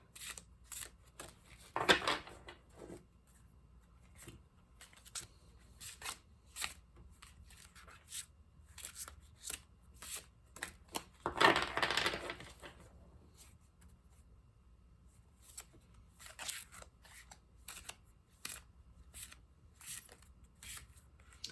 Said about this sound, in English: I meant rifle shuffling